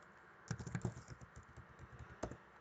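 Close computer keyboard typing during a web-coding session, irregular keystrokes clustered in quick bursts near the start and again near the end, with no talk.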